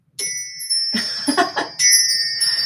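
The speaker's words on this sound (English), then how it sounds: "A medium amount of wind chime time." A wind chime rings with bright, sustained metallic tones, a cluster of jangling strikes in the middle, then long shimmering notes that hang on to the end.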